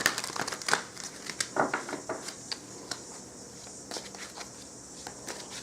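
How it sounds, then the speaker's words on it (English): Tarot cards are shuffled in quick bursts of crisp riffling and soft slaps, close and fairly quiet, with short pauses between bursts. "So let us shuffle these cards a little bit"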